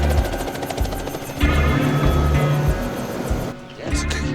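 A helicopter airlifts machine parts to a jade mining crew, its rotor thudding loud and close in a steady rhythm, then briefly dipping before rising again.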